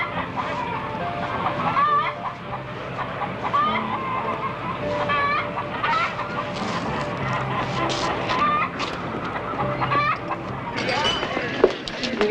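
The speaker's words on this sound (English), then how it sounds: "Chickens." Chickens cluck and squawk in a busy, close flock, a steady stream of overlapping clucks and calls filling the scene, with some voices talking underneath.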